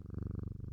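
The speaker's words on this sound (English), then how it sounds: "kitty cat" A cat purrs close by, a steady rapid rumbling pulse throughout a brief moment, alone and without talk.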